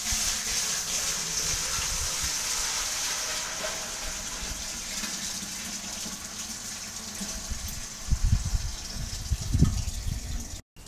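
Water gushes steadily into a Brewzilla (Robobrew) electric brewing kettle, a continuous close rushing fill with a few louder splashes and knocks toward the end.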